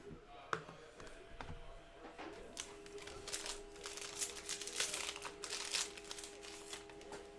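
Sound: ripping open a trading card pack

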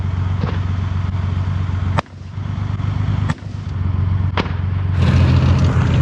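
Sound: infantry fighting vehicle firing automatic grenade launcher

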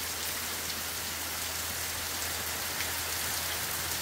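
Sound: rain falling on dry leaves

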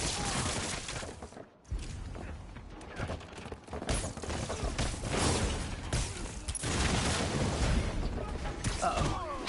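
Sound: gunfire from the Spider-Man Noir video game

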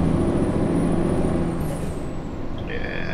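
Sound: truck engine revving in a truck driving video game

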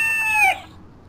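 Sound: rooster crowing in Love Hina video game

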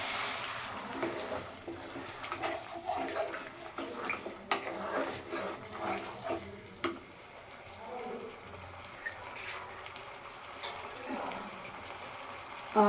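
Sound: water poured into frying spice paste for fish curry

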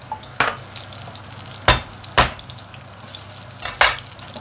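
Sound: stir-frying shallots and garlic in a wok

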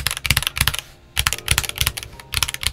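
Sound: typing on unlubed switches of Boyi TD21 macropad

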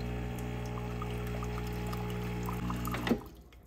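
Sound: water running through Oster Prima Latte coffee maker to clean it

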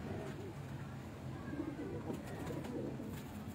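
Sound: pigeons cooing on a rooftop

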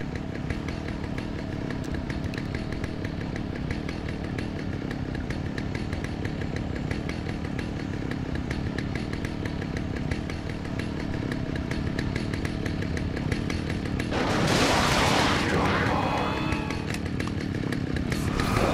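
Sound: chainsaw from the video game Alan Wake

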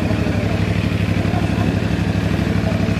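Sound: CF Moto NK 450 SR motorcycle engine revving

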